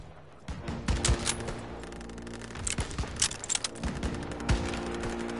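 D-Day battle gunfire crackles in rapid bursts, mixing rifle shots and machine-gun fire with sharp close cracks and fainter distant pops, amid a rumbling background.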